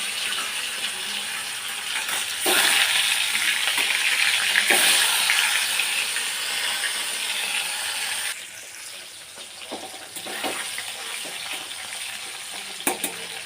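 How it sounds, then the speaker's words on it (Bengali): Rita fish frying in hot oil in a kadai, a steady loud sizzle and crackle that eases partway through, with a few sharp pops and spatters near the end. "আমি কড়াইতে তেল দিয়ে দিলাম মাছটা ভেজে নেব"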